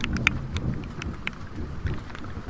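Steady rain falls outdoors during a wiffle ball game, a dense hiss of drops with soft patters and low rumbles over a short stretch, no voices heard.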